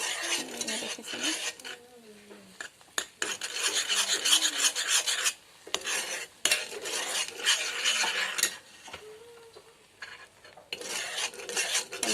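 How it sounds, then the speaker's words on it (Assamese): Spoon stirring a homemade keratin hair spa mixture in a bowl over a low gas flame, repeated scraping and rubbing strokes in bursts, with someone talking between them. "এনেকৈ কণ্টিনিউ লৰাই থাকিব নহ'লে এৰি দিলে লৰাবলৈ এৰি দিলে লাগি ধৰিব"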